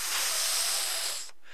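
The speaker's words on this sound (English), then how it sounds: "engineers call all the frequencies together white noise." Broadband synthesizer white noise, a steady loud hiss spanning the whole range, cutting off sharply near the end to a quieter hiss.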